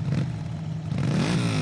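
A motorcycle engine idles and then revs up, loud and close, with a rising whine toward the end.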